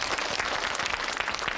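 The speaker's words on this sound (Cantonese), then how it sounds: "Harry 哥哥話拍手啊！" A group of children claps hands together during a game, a dense burst of quick, overlapping claps that continues for the whole brief moment at fairly close range.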